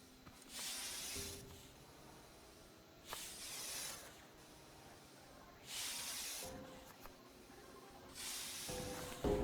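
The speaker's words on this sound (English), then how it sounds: "turn on the crusher." A crusher machine in the survival crafting game Scrap Mechanic gives off repeated bursts of breathy hissing, each lasting about a second or two and separated by short gaps, steady and fairly quiet.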